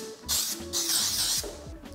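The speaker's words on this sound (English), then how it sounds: "I'm gonna go ahead and spray this down this time." A handheld spray can sprays in two bursts, each a steady hiss lasting roughly half a second to a second, close and fairly loud, separated by a brief pause with faint low household noise underneath.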